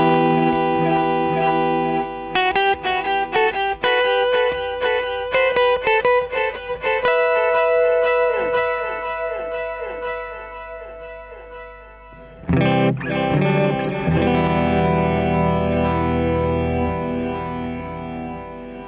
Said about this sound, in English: the next one is actually digital, digital delay, so this one will be a lot cleaner.